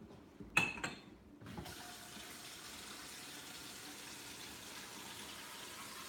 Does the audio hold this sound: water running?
yes